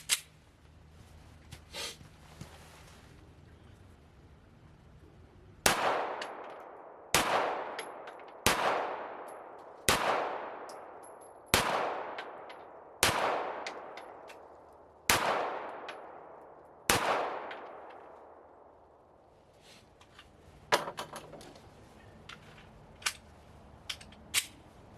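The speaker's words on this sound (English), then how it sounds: "So let's do some shooting." S&W M&P EZ9 9mm pistol fired with moderate hand loads outdoors: eight sharp, loud reports at a steady pace, each trailing a long echoing decay, with scattered faint clicks and handling noises before and after.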